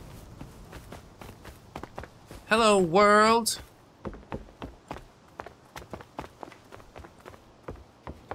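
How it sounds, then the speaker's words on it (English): Footsteps in the survival game Rust tap steadily at a walking pace, light and close, continuing throughout while a voice speaks briefly over them partway through. "I keep hearing footsteps"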